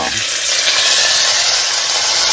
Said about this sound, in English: we're going to sear it real quick, and then we're going to put it in a crock pot. Yes, this grease is hot